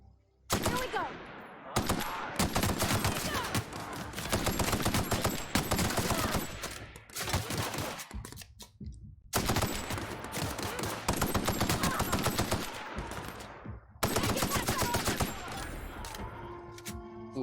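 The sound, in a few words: assault rifle gunfire in the video game The Outer Worlds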